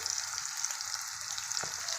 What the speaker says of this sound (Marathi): आता मी यामध्ये टोमॅटो पण टाकत आहे भाजायला।